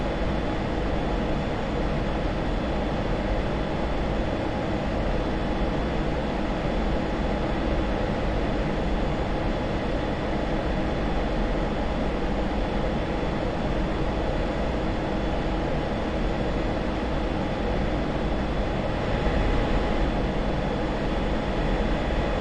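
An F-16 jet engine in flight in a flight simulator roars as a constant, loud, broadband rush that holds steady and unchanging throughout.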